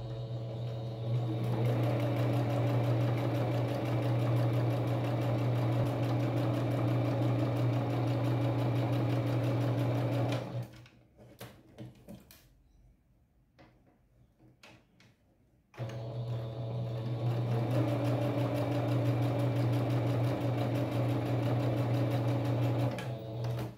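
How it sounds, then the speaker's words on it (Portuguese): Sewing machine stitching patchwork fabric for a rug made from scraps, a steady close motor hum for about ten seconds, a quiet pause with small handling clicks, then steady stitching again. "agora eu vou passar o pé de máquina aqui e fazer a mesma composição pro lado de lá"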